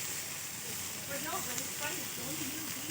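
Pork belly sizzling on a barbecue grill as it is flipped, a soft steady hiss of fat under someone talking close by.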